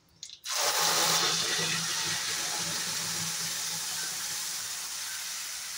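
Spice paste hits a hot pan with a sudden loud sizzle that holds steady and close as an egg masala cooks, a broad hiss slowly easing, no talking.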